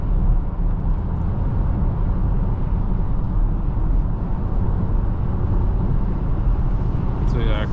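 Inside a 2026 Kia Sportage 1.6 T-GDI AWD cruising on the highway in a strong side wind, a loud, constant low roar of wind and road noise fills the cabin without letting up.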